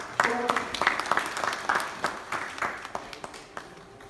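Audience applause welcoming speakers at a college orientation day, scattered moderately loud claps with individual sharp hits over a murmur of voices, thinning out toward the end.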